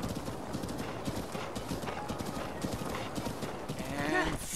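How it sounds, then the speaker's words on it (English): Horses in the video game Breath of the Wild, a steady run of clip-clopping hooves that ends in a whinny near the close, with faint talk beneath. "Horses! Yay."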